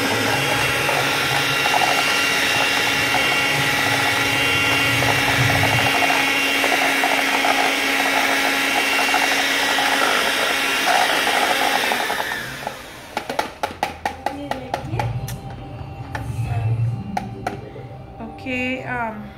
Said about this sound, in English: So let me just mix this up on low speed.